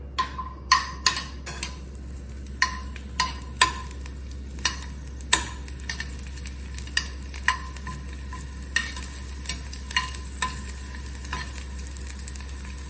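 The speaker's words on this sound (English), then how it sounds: "Now see, this is fried." Peanuts fry in a pan with very little oil, a low continuous sizzle under repeated sharp clicks and taps as a spoon stirs and the nuts knock against the pan, close and moderately quiet, no speech.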